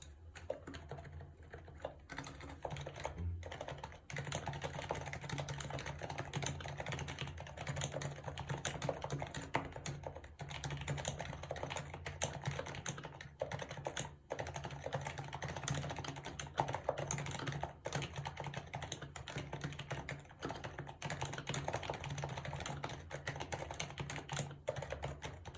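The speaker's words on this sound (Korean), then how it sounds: "일단 그러면 타건을 해보겠습니다" Continuous typing on a Happy Hacking keyboard, with steady, close, evenly paced keystrokes running for the whole stretch and a faint low hum underneath.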